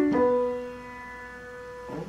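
Piano playing the pickup into the first full measure of a song: a struck chord rings and sustains clearly and alone, then a new note enters near the end.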